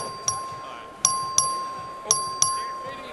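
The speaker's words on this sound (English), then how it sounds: "The clerk will ring the bell." A House chamber voting bell rung by the clerk before a record vote, sounding five sharp, bright dings at irregular intervals, each ringing out and decaying, with no talk.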